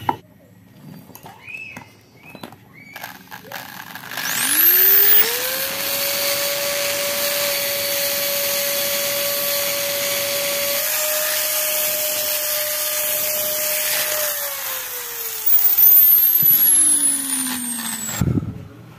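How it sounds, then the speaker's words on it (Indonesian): A power drill spins up to a steady high whine, holds for several seconds while grinding into metal on a Yamaha Vixion connecting rod bushing, then winds down; close and fairly loud. "Coba kita bor dulu ini ya"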